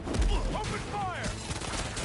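Rapid gunfire crackles in a burst during a fight in the video game Spider-Man 2, mixed with shouting voices and swooshing effects.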